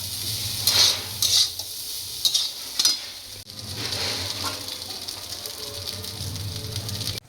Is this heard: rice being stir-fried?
yes